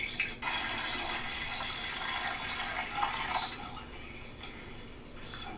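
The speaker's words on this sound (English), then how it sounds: "She was pouring it beforehand." Liquid streams into a coffee maker in a steady, bright splashing pour that carries on almost without a break.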